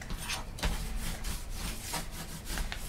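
Steady rubbing of a burnishing tool over paper on a small handmade mini album cover, close and continuous with brief scraping strokes, no voices.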